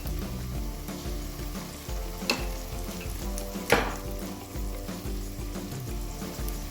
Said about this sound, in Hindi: इसको तब तक भूनना है जब तक इसमें से अच्छे से रॉ स्मेल ना निकल जाए